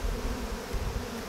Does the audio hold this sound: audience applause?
no